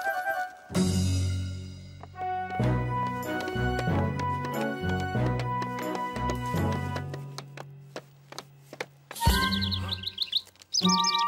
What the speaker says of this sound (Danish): den fugl kan virkelig lide at være her